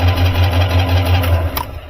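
An Iron Duke engine in an Astro Van with a 5-speed cranks fast without spark, a loud steady rhythmic starter churn lasting nearly two seconds before cutting off.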